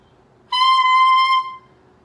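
A clarinet mouthpiece with its reed attached, played on its own, gives one bright, buzzy sustained squawk lasting about a second, close and alone, before a short tail.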